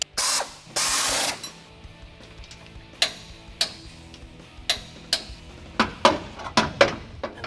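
A ratcheting wrench clicks in short bursts while tightening suspension bolts on a Ford F-150 4x4, with a couple of louder rasping pulls at the start followed by evenly spaced sharp ticks, close and fairly quiet.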